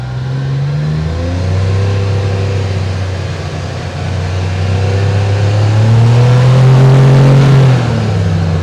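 A 2025 CFMOTO U10 Pro XL side-by-side accelerates away, its engine droning loudly and steadily with rising and falling pitch as it pulls through the gears, heard close and continuous with no talk.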